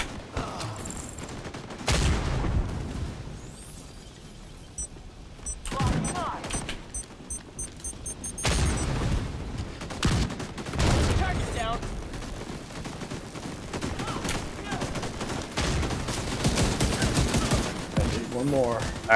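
Rapid gunfire in the video game Call of Duty, Iron Horse raid, crackles in long bursts with booms and explosions, dense and loud, while a voice talks underneath.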